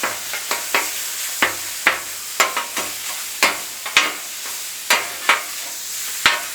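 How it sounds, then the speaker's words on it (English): Ground meat browning in a pan with a spatula, giving a steady sizzle broken by repeated scraping and stirring strikes at an irregular rhythm, close and fairly loud with no talk. "Right now, we're going to brown the meat."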